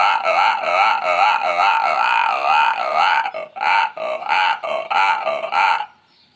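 A voice imitates a frog that lives in wells and water. It starts as a long, wavering nasal warble and then breaks into short, choppy croaking bursts before stopping.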